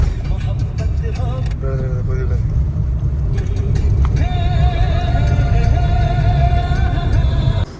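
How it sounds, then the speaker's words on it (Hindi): A car turns around on a mountain road near Rudraprayag at dawn, its engine a steady loud rumble throughout with tonal whine and road noise, while people talk over it. "अभी जरा गाड़ी मोड़ देते हैं।"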